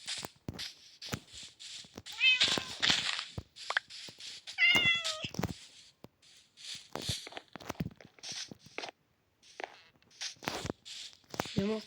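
A cat gives a few drawn-out meows near the mic while someone chases it, with rustling, footsteps and scuffling noises between the calls.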